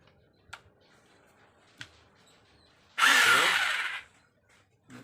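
A three-function rotary hammer drill, being repaired after it had stopped working entirely, bursts into a loud, roughly one-second whir after a few faint ticks and clicks, then falls silent.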